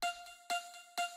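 The Nexus Drew Track pluck preset sounds three sharp, bright synth plucks at an even pace with a sustained tonal ring between them, close and clean with no talking.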